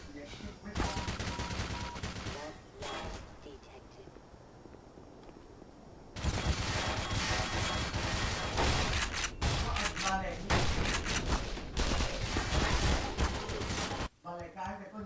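Turret gunfire in the Black Mesa video game: long, loud bursts of rapid automatic shots, close and dense, with a brief quieter gap before a sustained hammering stretch that runs to the end, a voice talking underneath.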